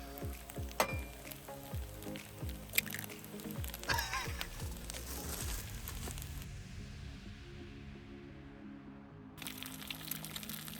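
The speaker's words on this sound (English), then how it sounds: "Cooking fried rice." Fried rice sizzling and frying in a pan at a campsite in the woods, a steady close crackle with scraping and tapping from stirring, fading toward the end.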